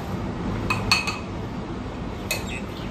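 Metal cutlery clinks and scrapes against a plate as plain rice is served at a Mandarmani beach resort, a few light taps in a quiet room.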